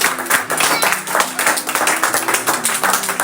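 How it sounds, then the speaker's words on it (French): A church congregation at a Cameroonian assembly applauding, with dense, loud, sustained clapping from many hands in a steady rhythm, close and filling the room. "Applaudissons encore"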